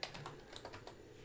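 Keys clatter on a computer keyboard in fast, uneven bursts of close, crisp taps, with no talking over them.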